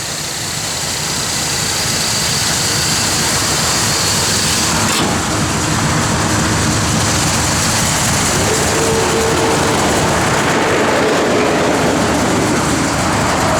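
Steady, loud drone of a 1966 Oldsmobile F85's Holley electronic fuel-injected 455 V8 running at idle, a constant low rumble with a slight shift in tone partway through, no voices over it.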